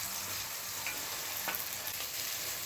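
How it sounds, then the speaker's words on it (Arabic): Onions frying in hot oil in a pot for Egyptian koshari, a dense, steady sizzle with small crackling pops, close and continuous, with no talking. "اول ما يسخن الزيت هنزل بالبصل."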